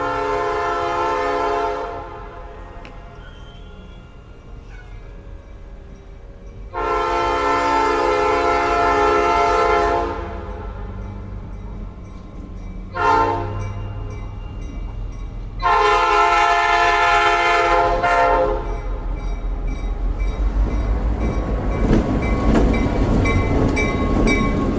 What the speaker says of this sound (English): as you can hear, here comes the diesel